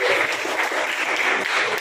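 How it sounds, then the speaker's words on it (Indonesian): Classroom audience applauding students at a vocational school session on industrial design, a brief burst of steady, dense clapping from a group, fairly loud and with no speech over it. "Tepuk tangan buat adik-adik."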